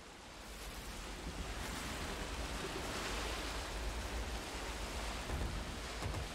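Ocean waves in the Sea of Thieves game roll as a broad, steady wash of surf, close and continuous with a rising surge partway through, no voices over it.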